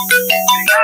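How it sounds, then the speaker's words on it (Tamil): A Jio caller tune plays during a phone call: a bright electronic melody of short tonal notes with a steady low hum beneath, loud and alone. "ஓகே, காலர் டியூன் கேட்டிருப்பீங்க."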